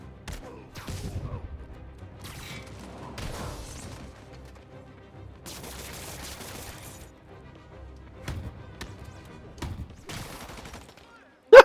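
Bursts of gunfire in the video game Marvel's Spider-Man 2 come in scattered rattling volleys and thuds over a few seconds, set amid in-game ambience and dull impacts, moderately loud with quiet gaps between.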